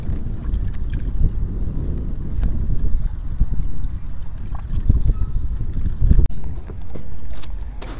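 Riding in a boat on the water at Purbachal at midday, low rumbling water and hull noise with wind buffeting the microphone, splashes and knocks scattered throughout, fairly loud and close.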